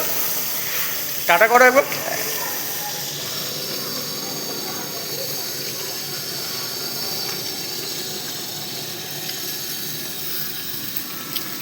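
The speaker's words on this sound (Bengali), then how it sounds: "মাছ ভাজা হচ্ছে।" Bhola fish fry in oil at a seaside stall in Digha, giving a steady, moderate hiss throughout, with a brief clattering burst near the start and a person speaking over it.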